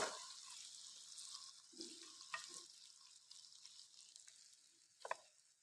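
A chicken tagine mixture frying in a pan, a soft continuous sizzle with a few faint stirring clinks, heard alone and fairly quiet.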